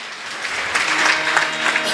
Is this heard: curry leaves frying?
no